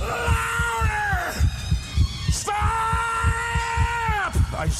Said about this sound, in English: The beating of this rotten heart!